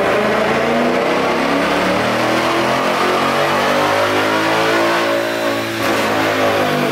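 Ford Mustang S550 with intake, X-pipe and tune revs on a dyno in a loud, sustained pull, the engine note climbing steadily and filling the space up close.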